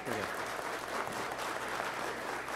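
Sustained applause from an audience at a formal ceremony in a legislative assembly, a broad steady wash of clapping with a low hum and faint voices underneath.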